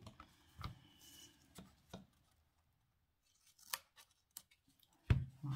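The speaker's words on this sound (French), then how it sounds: "Je coupe le surplus." Scissors trimming away excess material on a handmade binder, a few sharp separate snips spaced apart, close and fairly quiet, with near silence between them.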